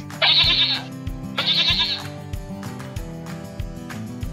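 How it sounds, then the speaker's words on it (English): Two loud, quavering goat bleats, each about half a second long, come one after the other over a light backing music track. "Goat."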